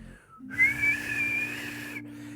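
A person whistles a single sustained, slightly wavering high note for about a second and a half, close and fairly quiet, imitating a kettle.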